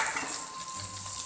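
Peppers going into a hot pan with ginger and garlic for a Chinese dish, giving a short, close, steady sizzle and hiss with no talk.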